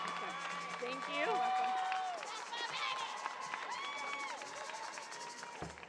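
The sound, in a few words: applause and cheering at a graduation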